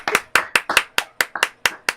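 Audience applause for Louie, the sound-effect helper at a children's storytelling session: sharp, distinct hand claps close by in a quick, fairly even rhythm, about ten strikes in two seconds, with no voices.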